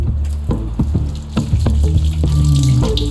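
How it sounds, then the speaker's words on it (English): Running tap water pours steadily over hands being washed at a sink, a loud, close, continuous splashing rush with no talk. "An hour later, Kevin finally gets to wash his hands."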